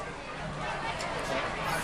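Crowd at a high school football game between LHS and Northeastern, a steady faint roar and babble of many voices in the stands.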